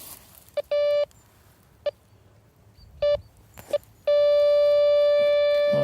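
A Nokta Makro Deep Hunter 3D Pro metal detector in a garden sounds a series of short beeping signals, some clipped and some longer, ending in a loud, steady sustained tone.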